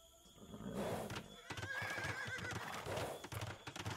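Horse archers in a real-time strategy game neigh and whinny over a quiet clatter of hooves and unit sound effects, a continuous busy mix without speech.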